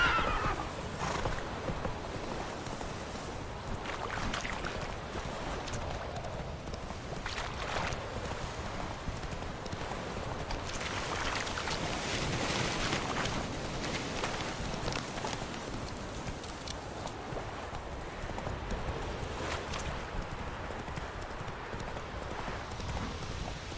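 In The Witcher 3, the horse Roach clops steadily along on its hooves and whinnies, a continuous rhythmic trot under a soft wash of ambient background sound.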